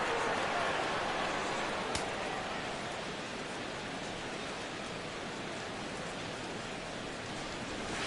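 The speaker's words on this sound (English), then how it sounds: "Rain continues to fall here in the 6th." Steady rain falls during a Milwaukee Brewers vs. Chicago Cubs game in MLB The Show 17, a constant even hiss filling the whole stretch with one faint tick partway through.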